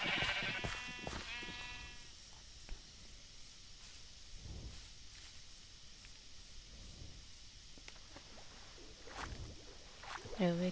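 Sheep bleating in a Minecraft modpack, a couple of wavering bleats at the start and another faint one near the end, over quiet game ambience with some hiss.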